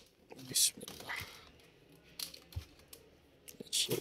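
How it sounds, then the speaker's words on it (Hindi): A laptop keyboard being pried loose during disassembly, heard close up as scattered plastic clicks, snaps and crinkly scraping in irregular bursts, with louder crackles near the start and end. "ये कीबोर्ड ओपन हो गया।"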